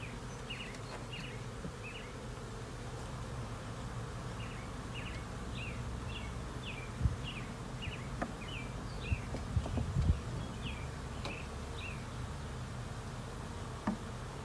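Steady low buzzing from many honey bees fills the scene during a swarm transfer from a trap to a new colony, continuous throughout, with a few soft knocks and a high chirping bird in the background.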